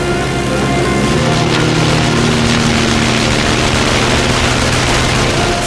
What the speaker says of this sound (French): En pétaradant, le moteur de ce dernier repart.